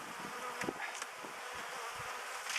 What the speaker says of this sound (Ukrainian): Бачите, як вони зляться в нас весною.